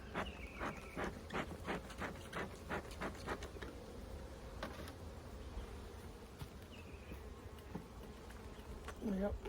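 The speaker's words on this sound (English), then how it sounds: "We got bees all the way up in the top of this big old skyscraper." Honeybees buzz steadily around an open hive in a tall stacked box full of nectar-filled comb, a dense continuous drone with individual bees whirring close by, plus occasional sharp knocks and clicks from handling the frames.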